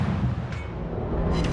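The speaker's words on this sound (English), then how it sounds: "Now I started shooting at the French battleship, Republic if I'm not mistaken" Heavy naval gunfire in a battleship game, fired at the French battleship Republic: a dense, continuous low rumble and booming that fills the short stretch with no clear separate shots.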